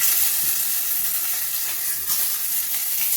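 Eggs frying in hot white oil in a pan, a steady bright sizzle and crackle continuing without pause.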